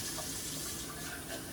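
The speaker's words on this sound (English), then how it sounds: "I'm actually going to put like 2 cups of water in there" Water runs steadily into a cooking pot on the stove, about two cups poured as broth is made for dinner, a continuous close rushing splash with no talk over it.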